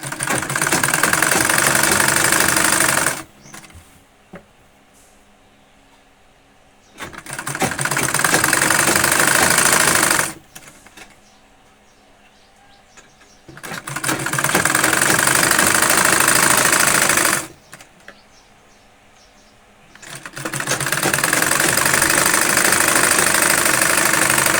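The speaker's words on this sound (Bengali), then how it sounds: "এভাবে আমরা অপর পাশটা সেলাই করে নিচ্ছি।" A sewing machine stitches the sides of a child's dress in three loud, steady runs, with short quiet pauses between them.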